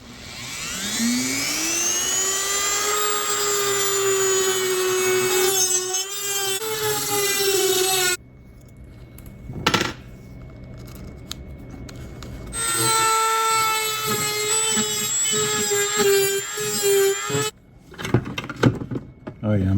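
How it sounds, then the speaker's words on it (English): Dremel with a worn metal cutoff wheel cutting into a Switch Pro controller, a high whining grind rising in pitch as it spins up, running in two long bursts separated by quiet pauses, with a voice speaking briefly between cuts. "I got my Dremel here. I got my little metal cutoff wheel that's seen better days"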